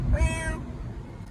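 A cat gives a single loud, close meow with a rising then falling tone, followed by quiet room ambience.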